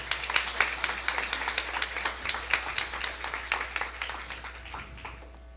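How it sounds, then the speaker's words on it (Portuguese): Audience applause after a safety-week lecture swells into fast, dense clapping from many hands in a hall, holding steady for several seconds before thinning out, fairly distant and with no speech over it. "novamente uma calorosa salva de palmas a todos aí"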